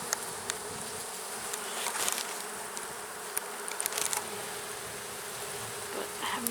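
Honeybees fanning at a nuc hive during an inspection, a dense continuous buzzing drone with individual bees zipping past the microphone, steady and moderately faint.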